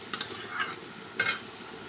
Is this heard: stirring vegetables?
yes